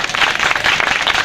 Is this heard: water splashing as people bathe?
no